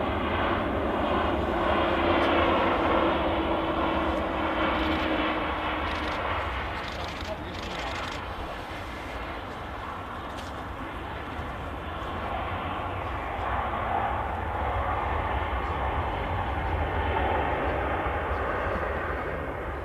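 A departing airliner at Manchester Airport roars steadily in a broad, sustained engine drone that swells and eases slightly over twenty seconds, heard from a distance with people talking over it.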